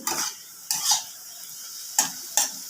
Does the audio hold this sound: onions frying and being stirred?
yes